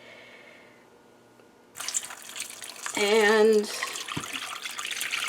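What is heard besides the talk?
pouring homemade soup broth into pot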